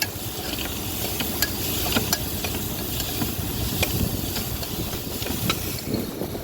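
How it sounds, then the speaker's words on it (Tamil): Onions sauté in a pan with crushed ginger, garlic and cumin, a steady close sizzle with intermittent clicks of stirring, no voices. "அதையும் வெங்காயத்து கூட சேர்த்து வதக்குங்க."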